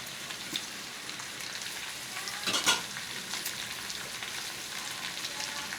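Chopped carrots and beetroot frying with potatoes in a pan give a steady crackling sizzle throughout, with a brief louder burst of spitting and stirring midway.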